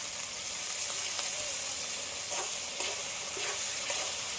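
Chicken and spices stirred and sautéed in a pan for a Bengali chicken curry with ripe mango, giving a steady close sizzle with scraping stirring strokes throughout and no talking.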